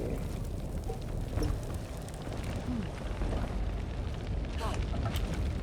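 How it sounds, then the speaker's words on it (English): Fire igniting a little fire pool in a video game: a steady, loud low roar with rushing crackle that holds for the whole stretch, with a voice speaking over it. "Let there be fire. Release the little fire pool."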